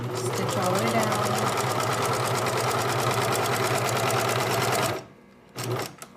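A sewing machine runs continuously, stitching fabric with a fast, even mechanical chatter for about five seconds, then stops; a short burst of handling noise follows.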